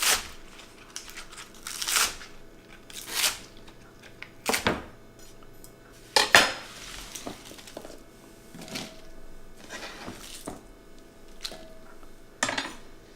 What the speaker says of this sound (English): now I'm going to slice the scallions